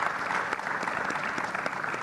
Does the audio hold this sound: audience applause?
yes